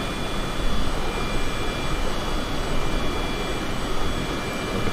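A business jet's engines in Microsoft Flight Simulator, a Cessna Citation CJ4, throttled back to idle at top of descent, giving a steady broad roar with a faint high whine, constant and alone.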